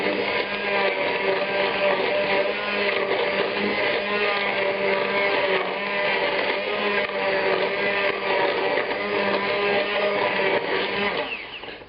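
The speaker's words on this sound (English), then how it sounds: "I'm going to use a stick blender on it." A stick blender whirs steadily through a pot of port wine BBQ sauce after an hour of simmering, a loud continuous motor drone with a slight churning texture that fades at the end.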